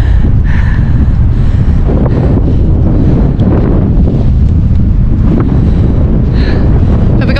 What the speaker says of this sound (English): Oh, it's very windy today